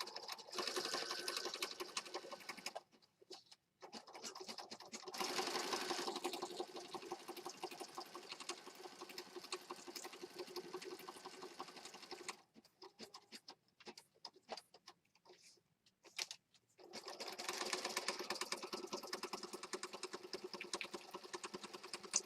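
A sewing machine stitches down a mixed media junk journal page, running in several rapid whirring bursts with gaps of quiet between them, close and soft.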